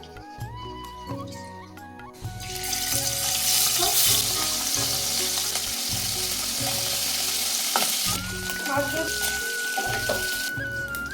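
Oil hits a hot pan and sizzles steadily for cooking fish, a loud broadband frying hiss starting after a couple of seconds and holding, with clinks of utensils and background music underneath.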